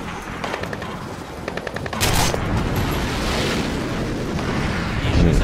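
Video-game gunfire in Splinter Cell Blacklist. Rapid bursts of shots give way to a dense, sustained roar of firing and explosions that stays loud throughout.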